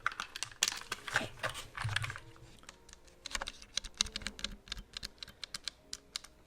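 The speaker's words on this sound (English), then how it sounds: "I love typing on this." Fast typing on a lightweight RGB mechanical keyboard with red switches, a steady stream of crisp close-up key clacks in quick irregular bursts with no talking.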